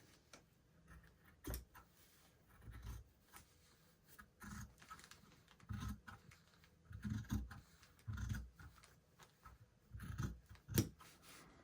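Scissors cut a rolled piece down the middle for a Valentine Cupid gnome craft, giving a series of quiet, close, crisp snips spaced a second or so apart with no talking.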